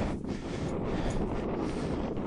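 Wind on a Ligurian hillside during tent pitching, a steady, loud roar buffeting the microphone with continuous broadband rush and no speech.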